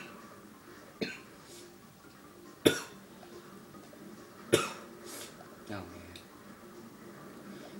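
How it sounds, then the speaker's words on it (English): Several sharp coughs, about four spaced a second or two apart, come from a person playing a Crash Bandicoot game, close to the microphone over faint background game sound. "you guys might hear me cough a lot this whole part"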